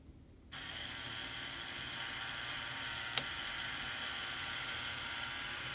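A Lego two-speed high-torque gearbox spins its plastic gears, a steady faint whirring hum with one brief click partway through, and no talking.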